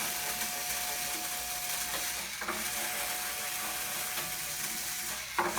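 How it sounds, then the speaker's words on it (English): Guitar strings being loosened at the tuning pegs, giving a steady run of small ratcheting, clicking mechanical turns close by, with slight string creaks and no talking. "You can see I'm just loosening these strings."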